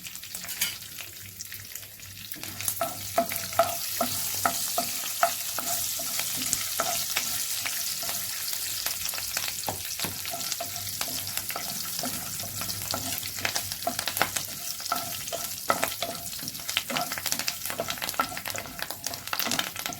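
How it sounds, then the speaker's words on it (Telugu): Chana dal, mustard seeds, dried red chillies and curry leaves frying in hot oil, a bright continuous sizzle with crackling pops and occasional stirring, close and moderately loud. "రెండు ఎండుమిరపకాయలు కొంచెం కరివేపాకు వేసుకొని కొంచెం బాగా వేయించుకోవాలి"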